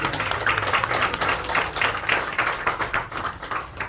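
A church congregation claps in welcome at a Korean church prayer gathering, a brisk, dense patter of hands that rises and falls unevenly across a few seconds.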